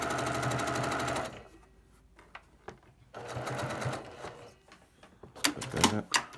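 Sewing machine stitching a quarter-inch seam on quilt pieces for a pinwheel block, a fast close rattling run that stops, then a quieter stretch of fabric handling before shorter bursts of stitching resume.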